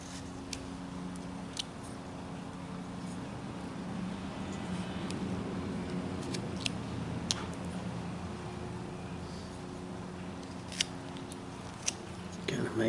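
A knife carving a crease into the hair of a small whittled wooden character, with faint scattered clicks and scrapes of the blade under a quiet voice.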